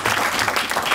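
Audience applause fills a memorial lecture hall, a steady dense wash of many hands clapping at once, sustained and even throughout with no voices rising above it.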